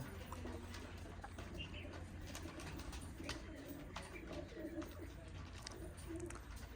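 Faint, distant pigeon coos repeat through a constant outdoor hiss as the birds are fed grain.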